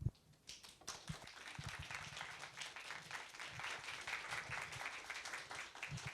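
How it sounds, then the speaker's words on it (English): An in-person audience at an evening talk event breaks into applause, with a few scattered claps growing into sustained, moderately dense clapping that holds steady for several seconds. "Can we have a round of applause first?"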